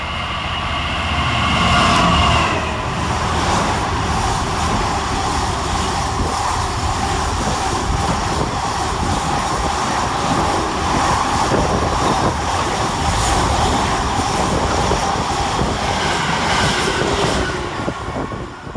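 A DRS class 66 diesel freight locomotive, 66.031, hauls a container train through Milton Keynes Central station with a loud, sustained engine rumble and rolling wagon noise for nearly twenty seconds.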